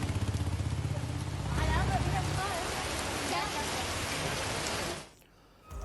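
Heavy, steady rain pours in Uttarakhand, a dense hiss of drops on surfaces filling the scene, with a low rumbling hum early on before the downpour cuts off near the end.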